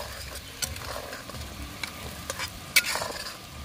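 Onion, curry leaves and cumin fry in a pan with a soft, continuous sizzle, broken by scraping stirs and a sharper clack near the end, all close and fairly quiet.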